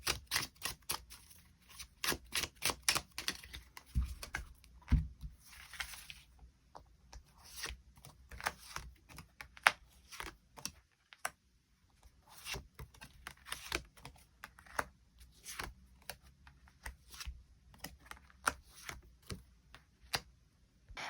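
Tarot cards are shuffled and drawn by hand, giving rapid papery flicks and riffling bursts in quick clusters, with short pauses between runs, close and fairly quiet.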